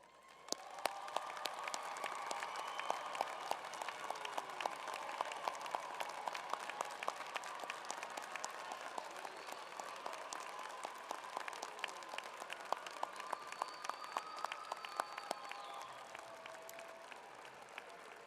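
A large commencement audience at Idaho State University's 2024 spring ceremony gives a round of applause for the graduates' families. The clapping is dense and sustained, holding steady for the whole stretch with no talking over it.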